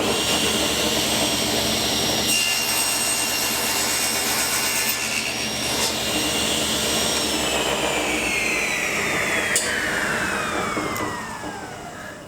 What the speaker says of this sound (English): I can use my miter saw, and the blade is high enough to go through it.